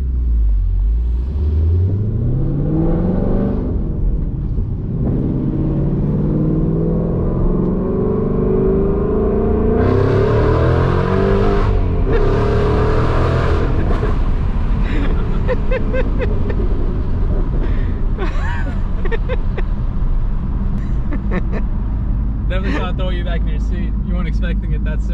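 Whipple supercharged Ford Mustang heard from the passenger seat during a ride, its loud engine rumble repeatedly climbing in pitch through hard accelerations, with people talking over it throughout.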